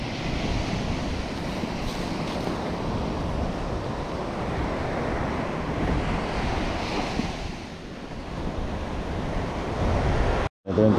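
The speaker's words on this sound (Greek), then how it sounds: "Τα νερά είναι αρκετά τραβηγμένα, αλλά η θάλασσα δουλεύει πολύ καλά." Sea waves wash continuously against a coast in a force 4 southerly wind, with gusty wind buffeting the microphone close up and a brief dropout near the end.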